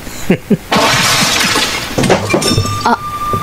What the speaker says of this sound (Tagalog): Ang malaking kwadro nahulog at nabasag.